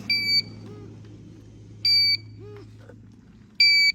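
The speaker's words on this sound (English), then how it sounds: "You got flashing lights and a buzzer." A GZAIR SA103 portable carbon monoxide detector alarm gives three short, piercing electronic beeps at regular intervals over a low steady hum, with faint clicks in between.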